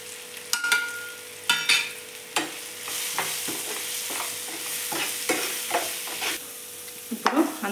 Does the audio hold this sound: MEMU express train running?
no